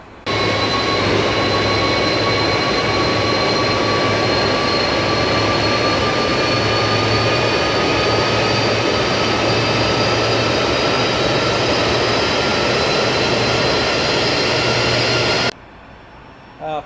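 Jet engines of a Felis 747-200F in X-Plane, heard from outside the aircraft as a loud, continuous roar with steady whining tones that cuts off abruptly near the end.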